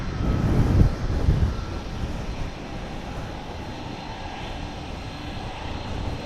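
UPS Airbus A300 jet arriving from Palm Beach, a broad low engine roar that is loudest at the start and then settles into a steady, moderately distant rumble with no talking.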